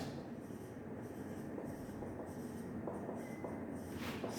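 Chalk or marker writing a topic heading on a classroom board, a run of short scratchy strokes and taps in irregular bursts, close and moderately quiet, with no talking.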